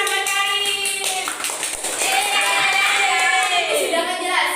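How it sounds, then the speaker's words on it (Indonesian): Students clap in a classroom, a brief patter of hands heard under a sung or spoken melodic voice, with the clapping fading in and out among the tones. "Tepuk tangan buat Karin."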